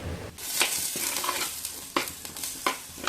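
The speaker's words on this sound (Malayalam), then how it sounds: "പച്ചമണം മാറുന്നവരെ ഇളക്കണം അല്ലേ?" A spoon scrapes and stirs through a thick ground masala paste sizzling in a pan for a fish head curry, with soft frying crackle and periodic scraping strokes close up.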